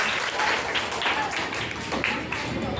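Eighth-grade girls in a classroom quiz clap together, a dense burst of applause from a group of students, fairly close and sustained for a few seconds.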